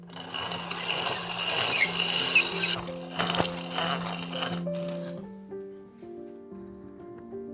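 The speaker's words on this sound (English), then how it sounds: "I'm going to grind up some of this clay in my corn grinder" Hand-cranked corn grinder milling dry clay, a steady gritty grinding and scraping for a few seconds under a droning tonal hum, then fading to a quieter whine with the grinding gone.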